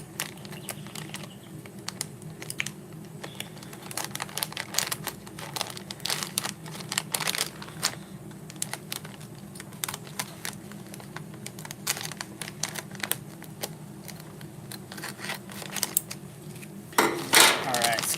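Kitchen scissors snipping and crunching through lobster tail shells, producing scattered crisp clicks and crackles with a faint background hum, growing louder toward the end.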